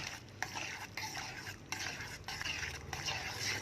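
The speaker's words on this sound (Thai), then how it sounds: "คนอย่าหยุดนะคะ ถ้าหยุดเขาจะจับตัวเป็นก้อน" Tapioca starch being stirred into liquid in a pan over low heat, the utensil scraping in continuous rhythmic strokes with brief pauses, close and fairly quiet, no voices.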